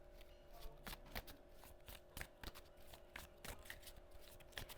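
Tarot cards being shuffled by hand, a steady run of soft papery riffles and taps close up and fairly quiet, with no talking.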